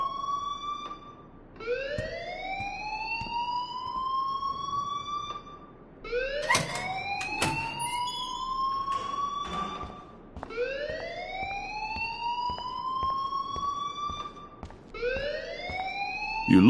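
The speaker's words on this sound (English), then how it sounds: "please turn off that alarm since that's your job" An alarm in the video game Life is Strange sounds in a repeating rising, siren-like wail, four sweeps over steady background noise, loud and without speech.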